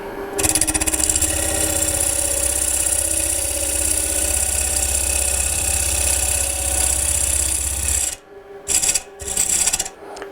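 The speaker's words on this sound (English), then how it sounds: "I've speeded the lathe up now to about approximately 1000 RPM" A wood lathe spins at about 1000 RPM with a loud, steady motor hum and a continuous rasping rub from the turning workpiece, then cuts out abruptly near the end into brief pauses and short bursts.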